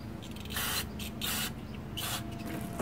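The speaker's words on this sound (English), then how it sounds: "that carb cleaner really burning that scrape place right there" Carburetor cleaner hisses from an aerosol can onto a 4 kW Onan generator, three close, loud spray bursts of about half a second each, separated by short pauses.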